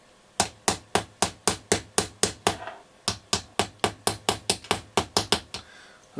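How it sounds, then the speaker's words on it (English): A screwdriver handle taps a metal can against a desk during electrical repairs on a Roberts R200 radio, a steady series of about two dozen sharp, close knocks in a quick, even rhythm with one brief pause partway through. "I'm just tapping the can against the desk with the end of the screwdriver"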